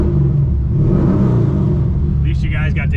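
A Nissan 350Z engine revs on a test drive, a loud continuous low rumble that rises and holds, with a voice speaking briefly near the end.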